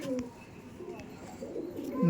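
Restless, large-bodied domestic pigeons at a pigeon loft in South 24 Parganas coo softly in low, rolling bursts, with fluttering movement and a voice talking nearby.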